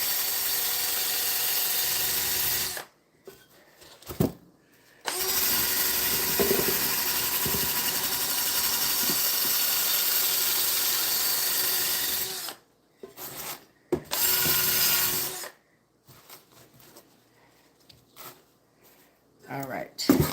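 A cast iron pan is scrubbed with a pumice stone in long stretches of loud, close, harsh gritty rasping, broken by a few short pauses with quieter handling sounds.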